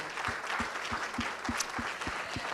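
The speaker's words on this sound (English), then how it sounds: "Yes, you can applaud that. It should be applauded." A small group at a charity fundraiser event claps steadily for a few seconds, the applause fairly quiet and even throughout.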